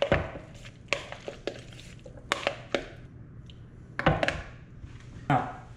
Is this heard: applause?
no